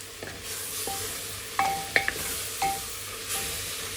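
Ingredients for a pressure cooker chicken biryani sizzle steadily in hot oil while a spoon stirs. A few sharp metallic scrapes and clinks rise above the frying, close up and with no talk.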